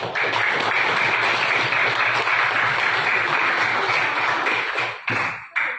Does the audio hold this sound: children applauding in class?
yes